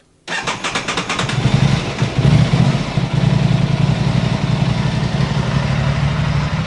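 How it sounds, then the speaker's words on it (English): An Aprilia RS 660 sport motorcycle engine cranks and fires up, then settles into a loud, steady, slightly lumpy idle that continues close by. "So one last time, we'll start the bike up"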